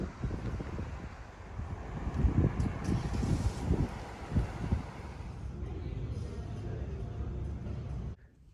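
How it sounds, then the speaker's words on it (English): Strong outdoor wind of around 40 to 50 mph buffets the microphone with loud low rumbling gusts that peak and then ease before cutting off. "Y'all, it has been windy today."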